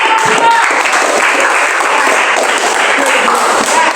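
Loud, dense applause from a crowd after a student group presentation fills the whole stretch, steady and continuous with no gaps.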